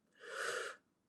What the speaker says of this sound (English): lean over, lean forward, take a big breath in.